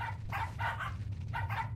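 Dogs bark in the horror video game Pacify, a rapid run of several sharp barks in quick succession over a low rumbling game ambience.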